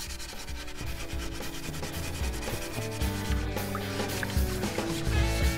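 Scrubbing the outer skin off a gourd: a steady, close rubbing and scraping that runs continuously and grows slightly louder, with faint wet squishing and no speech.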